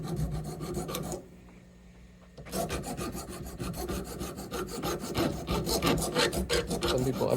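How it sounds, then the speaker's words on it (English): A file rasping the corners of a bone guitar saddle for a Yamaha FG9, rapid rhythmic back-and-forth scraping strokes, close and loud, with a brief pause before the strokes resume and quicken. "I want a bigger file for this"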